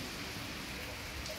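Steady rain falling outdoors near the Kütahya Geology Museum, an even, close hiss of drops on surfaces continuing throughout with no talk.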